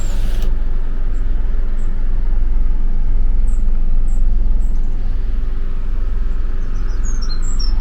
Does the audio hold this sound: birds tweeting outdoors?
yes